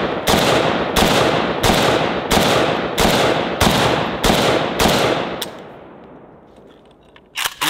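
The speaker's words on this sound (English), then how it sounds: "I'm gonna shoot that Yeti cooler." Eight loud AK-pattern rifle shots fired at a Yeti cooler, evenly spaced about two-thirds of a second apart with sharp cracks and echoing tails, followed by a quieter stretch of shuffling and a brief clatter at the end.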